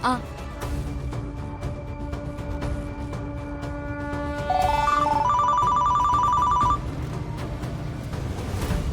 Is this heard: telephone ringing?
yes